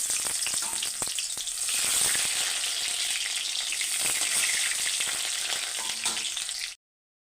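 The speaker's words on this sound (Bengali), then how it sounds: "তো এখানে আমি কড়াইতে সর্ষের তেল দিয়ে দিয়েছি এখানে আমি অল্প পেঁয়াজ ভেজে নেব" Onions fry in mustard oil in a wok, a loud, steady close sizzle with occasional stirring, cutting off abruptly at the end.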